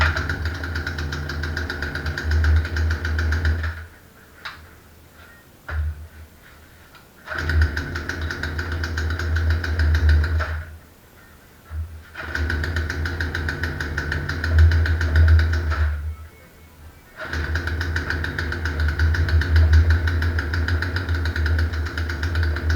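A Poulan Pro 18-inch gas chainsaw idles loudly and close with a steady buzzing drone that drops out three times as the saw stalls, then restarts. No one speaks.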